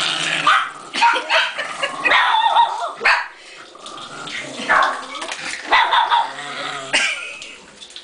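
A dog barks and yips in repeated bursts near the microphone, with growly edges and splashing, scrubbing mop sounds between the barks inside a house.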